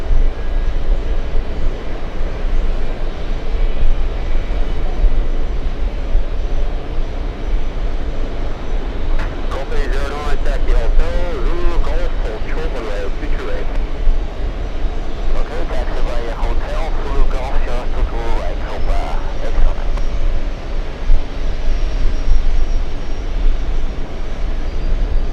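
An Air Serbia airliner in special Expo 2027 livery arrives on runway 22 right at JFK, a loud continuous jet rumble with rising whine that holds steady throughout while someone talks over it.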